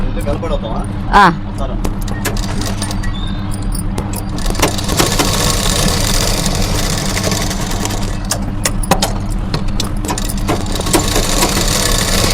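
Sewing machine stitching a lining blouse during a tailoring class, running steadily throughout with a faint rattling hum under continuous talk and scattered clicks and clatters.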